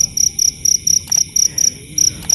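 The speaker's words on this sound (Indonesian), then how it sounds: "Gua udah nemu satu lubang jangkrik di sini. Ini suaranya kencang banget" Loud, steady cricket chirping from a burrow at night after rain, in regular pulsed bursts about four per second, close and continuous with no talk.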